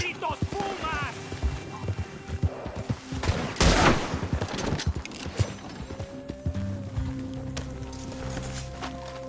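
Gunfire in a Red Dead Redemption puma attack, a sharp burst of several shots near the middle set among horse hoof clatter and voices talking, with a neigh-like cry early on.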